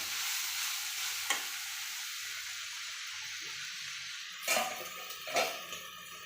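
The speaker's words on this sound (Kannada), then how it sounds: "ಇವಾಗ ಸ್ವಲ್ಪ ಫ್ರೈ ಮಾಡ್ಕೊತೀನಿ" An eggplant barata mixture fries in a pan with a soft, even sizzle throughout, broken by a few brief scraping stirs near the end.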